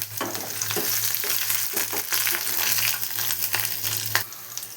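Curry leaves, mustard seeds and onion frying in oil for tomato rasam, stirred in the pan: continuous close sizzling with repeated scraping strokes of a spoon and a faint low hum beneath, no talk.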